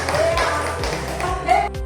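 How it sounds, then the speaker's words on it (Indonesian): Teachers at a school training meeting give a short round of rhythmic hand claps, a few distinct patterned taps close by, with a voice talking over them. "Tepuk tangan dulu untuk semuanya"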